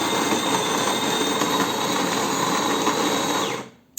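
A DeLonghi bean-to-cup coffee machine grinds coffee beans with a loud, continuous harsh whir that runs steadily for over three seconds and then cuts off abruptly.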